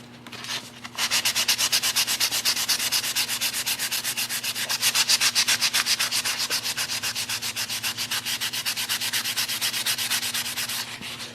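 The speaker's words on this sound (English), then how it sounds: "hold the camera and sand that at the same time" Sandpaper rubs back and forth over primer on a rusty Chevrolet Suburban body, a steady rapid rasping stroke rhythm held close and continuous for about ten seconds, no talking.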